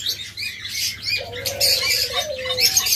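Pigeons, red-eyed birds among them, coo softly in a low steady murmur while nearby wings flap in quick bursts and faint chirps sound in the background.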